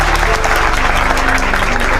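An audience at a community gathering bursts into loud, dense, continuous clapping that fills the room, with faint voices mixed underneath.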